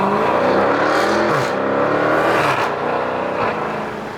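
A car in sport mode pulls hard under acceleration with paddle-shifted gears, its engine note loud and close, climbing and dipping through quick shifts before easing off at the end.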